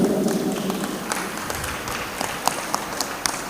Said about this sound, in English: Shall we clap for them?